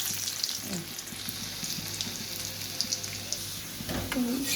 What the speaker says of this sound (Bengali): রসুনটা একদম ভাজা হয়ে গেছে,